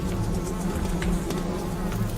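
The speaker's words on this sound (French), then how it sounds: "des dizaines et des dizaines de grosses mouches noires qui bourdonnent" Steady, loud buzzing from dozens of big black flies droning and knocking against window panes indoors, continuous with no pauses.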